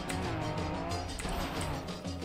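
A stadium dirt race car in a video game roars along at high revs, with tire squeal and skidding over a dense, continuous engine drone that stays loud for the whole short burst.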